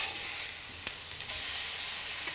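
A chopped beef steak gets turned over in a frying pan on the highest heat, producing a constant loud sizzle with a brief clack from the flip and a surge of hissing right after.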